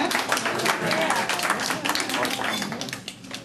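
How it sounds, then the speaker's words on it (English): Audience at a retirement celebration applauds to welcome a Maryland Division of Corrections representative, a steady wash of clapping from a room of people lasting several seconds and fading toward the end. "Let's welcome him with a hand clap."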